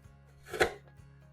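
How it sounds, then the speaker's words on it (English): A half onion is chopped with a push-down chopper in one quick plunge, a single short crunching thump near the middle against quiet background. "It's my favorite way to chop onions because there's no more crying"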